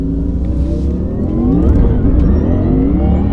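An 1100-horsepower Porsche pulls hard out of a corner on a mountain pass with overboost engaged. Its loud, close engine roar climbs in pitch as it accelerates, with no talking.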